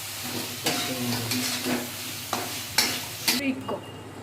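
Meat frying and being stirred in a pan, steady sizzle with several scraping spoon strokes against the metal, close and fairly loud, no voices.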